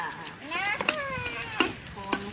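A utensil scrapes through shrimp fried rice sizzling in a pan, with a few sharp clinks over the frying hiss while a voice chatters faintly in the background.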